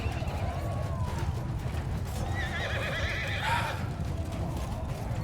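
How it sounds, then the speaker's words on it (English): Horse neighing in the video game Mount & Blade II Bannerlord: a whinny rises and wavers over steady clip-clop hooves and a continuous low battlefield rumble, with no talk. "Let me jump on this horse."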